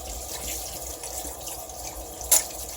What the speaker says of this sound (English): Let's see if I can rinse it off my hands.